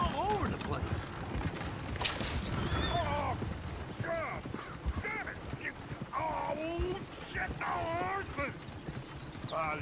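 Horses in the game Red Dead Redemption 2 clop along with steady hoofbeats while shrill neighs and whinnies rise repeatedly over them, a lively scene with voices speaking throughout.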